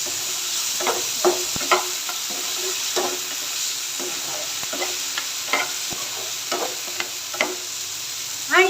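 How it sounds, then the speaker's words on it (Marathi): Barnyard millet with potato being stirred in a frying pan for a fasting upma, giving a steady soft sizzle with repeated scraping strokes of the spoon throughout, close and moderately loud, no talking. "जे आपण वरीचे तांदूळ घेतलेले भगर ती ह्याच्यामध्ये ॲड करूया व्यवस्थित मिक्स करून घ्यायचं आहे"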